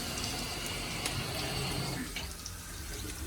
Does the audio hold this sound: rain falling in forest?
no